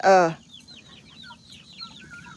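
Backyard chickens, including spotted ones, with a loud throaty cluck at the start followed by soft, high, repeated peeping calls scattered over a low steady background.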